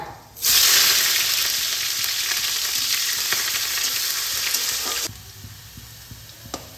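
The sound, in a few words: chopped onion and black cumin frying in hot oil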